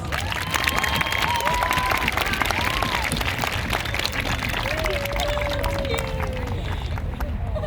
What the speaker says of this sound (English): Guys, give him a round of applause